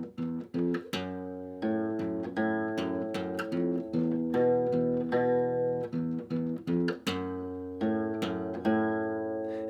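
A beginner's electric guitar riff played on the 6th and 5th strings, with clear repeated plucked notes in a steady rhythm and ringing harmonics, close and alone without talk.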